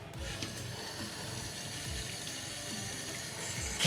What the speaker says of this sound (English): And rinse that fillet off.